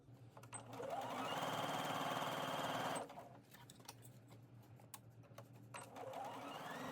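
A sewing machine stitches a seam on a beginner summer dress, whirring up quickly into a loud steady run for about two seconds, stopping abruptly, then starting again briefly near the end amid quiet handling noises.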